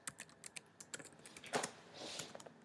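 Keys clatter on a computer keyboard as code is typed, a quick irregular run of soft clicks at close range, with a brief louder burst midway, no voices.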